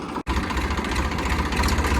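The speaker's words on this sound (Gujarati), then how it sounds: "તો ટ્રેક્ટર અહીંયા મૂકી દીધું છે." A tractor engine idles at a threshing floor during the ajwain harvest, a loud steady low rumble that runs continuously after a momentary cut near the start.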